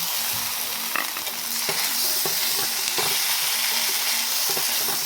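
Boiled potato is worked into a spiced mixture in a pan, with soft scraping and stirring knocks over a continuous low frying hiss, close by and without talk.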